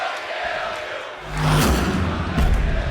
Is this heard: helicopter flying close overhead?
no